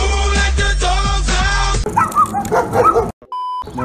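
Large dogs let out a quick run of loud, clipped barks right after a stretch of loud music, ending with a short electronic beep.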